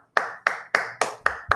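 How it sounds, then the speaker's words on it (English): Six distinct hand claps at an even, slow rhythm, loud and close, from a small group at an online Excel fundamentals workshop, with no talk underneath. "may I request everybody to give a round of applause to Mr. Giovanni."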